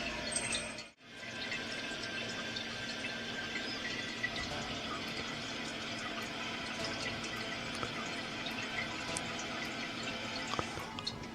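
Water runs steadily into a household toilet tank as it refills during a house renovation, a continuous close hiss and trickle after a brief dip near the start, with faint drips on top and no talking.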